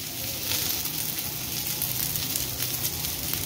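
Onions fry in a pan for malai pyaaz sabzi, giving a steady, bright sizzle that holds even and continuous at moderate loudness throughout, with no talk over it.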